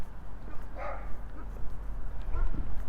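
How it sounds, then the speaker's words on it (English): Dogs bark briefly at a distance during a walk through a city neighbourhood in Regina, a couple of yips over steady outdoor background noise and scattered speech. "A couple of more barky dogs."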